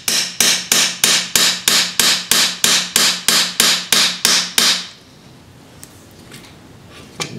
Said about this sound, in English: bucking the rivet there